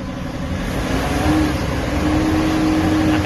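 A Nissan Navara NP300 with a white-and-black smoke fault and an intake air temperature code revs steadily under the hood, a close, loud and sustained engine drone that holds its pitch.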